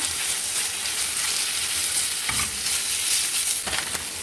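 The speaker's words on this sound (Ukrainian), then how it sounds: "додаємо томатну пасту. Хорошо це все перемішуємо." Scraping stir of a spoon through thick tomato paste in a pan over a soft steady sizzle, with a couple of sharper knocks near the end.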